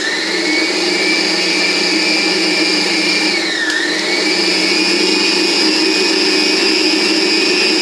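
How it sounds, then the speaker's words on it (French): An electric mixer whisks pastry cream for a traditional strawberry fraisier cake, a steady loud motor whine held throughout with a brief dip in pitch midway, no voices. "Je vais donc maintenant la fouetter avant de rajouter le beurre."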